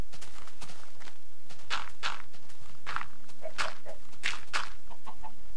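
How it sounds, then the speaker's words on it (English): Minecraft chickens cluck in repeated bursts over a few seconds, several birds close by, with light scratching or footstep sounds underneath and no talking. "Lots of chickens, wow, okay."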